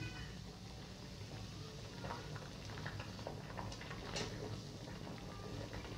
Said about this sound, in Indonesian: Ini sudah mendidih.